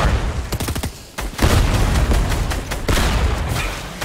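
Grenade blasts and heavy gunfire in a Fortnite-style shooter game, with dense bursts of shots and booming impacts filling the whole stretch, a brief lull near the middle, then loud sustained firing and explosions resuming.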